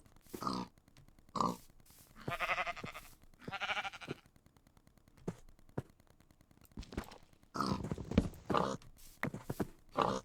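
Pigs grunting and squealing in a farming video game with livestock and horses; short bursts of grunts and bleat-like calls come in bunches separated by quiet gaps.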